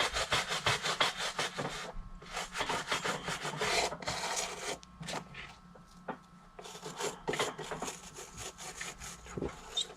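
Stiff brass bristles scrub across the sole of a vintage women's Chloe leather boot in rapid, rasping back-and-forth strokes, close and loud, with a brief slower pause midway before the brushing resumes.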